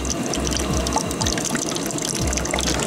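Wort first runnings from an all-grain weizenbock mash stream into a container, a close, steady splashing and trickling pour with small gurgles throughout.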